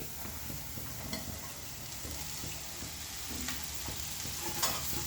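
Spring onions frying in a pan for a moong dal curry, stirred now and then: a continuous soft sizzle with faint scraping and clinks, close and low in level, no voices.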